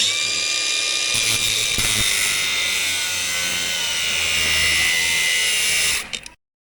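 A cordless battery-powered tool's motor and gearbox whine steadily at high pitch for about six seconds nearby, then cut off abruptly into silence.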